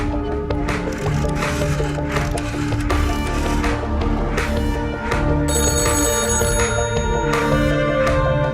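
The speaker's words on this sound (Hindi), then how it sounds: "अकबर के कैबिन का फोन लगातार बज रहा है।" A telephone rings repeatedly in an office cabin, loud and close, its bright bell tone pulsing in a steady rhythm over a background music score with no speech.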